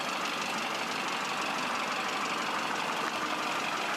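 A car engine runs steadily during a driving lesson for veterans with disabilities in Cherkasy, a constant muffled interior hum and road noise heard from inside the cabin with no talking.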